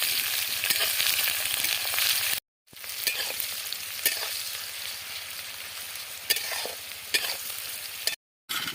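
Onions fry in hot oil in a pan for a village chicken curry, giving a close, loud, continuous sizzle broken by stirring scrapes and two brief cuts to silence, with no voices.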